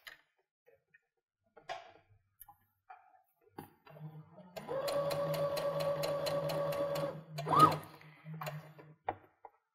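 A sewing machine runs steadily for about three seconds, stay stitching a quarter inch from a fabric edge all the way around a neckline, its motor hum and needle ticking close and clear, with brief handling clicks before and after.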